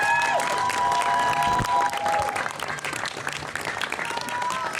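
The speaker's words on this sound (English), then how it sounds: "A big round of applause for her." A crowd at a rally applauds steadily throughout, dense clapping with a few faint cheers mixed in, fairly loud and sustained.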